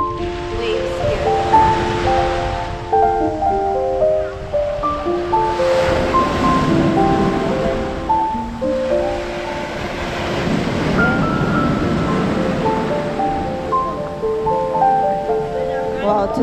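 Strong ocean waves at Es Canar beach, Ibiza, surging in broad washes about every few seconds beneath steady background music and faint voices.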